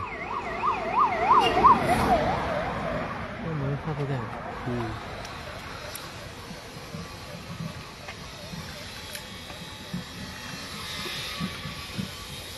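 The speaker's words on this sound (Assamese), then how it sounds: "এইটো হিমন্তৰ হেল্থ কেয়াৰ এম্বুলেন্স" An ambulance siren wails in rapid up-and-down sweeps, loud at first then fading and breaking off, with traffic noise continuing afterward.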